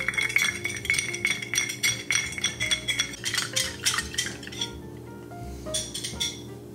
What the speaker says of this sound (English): I'm gonna go ahead and grab some ice and we'll get this stirred together